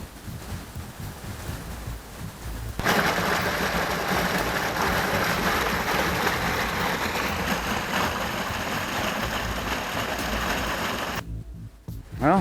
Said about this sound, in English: Look at the mineral spring today. It is flowing. Water is going out into the nearby creek.